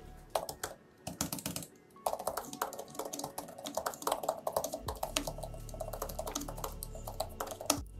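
Steady typing on an iPad tablet keyboard, quick soft clicks and taps in an uneven rhythm, close up with no voices.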